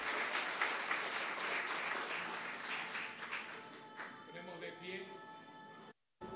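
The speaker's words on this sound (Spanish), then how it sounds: "Para ellos, nuestro agradecimiento, nuestra oración y nuestro aplauso." A church congregation applauds, a steady dense wash of clapping at a moderate distance that slowly thins over several seconds before stopping, with some voices mixed in.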